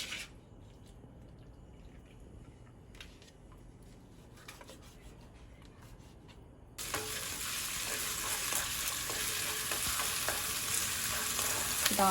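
Squid stir-fried with onion, mushroom and carrot crackles in a hot pan, with soft stirring at first, then a loud, steady sizzle taking over for the second half.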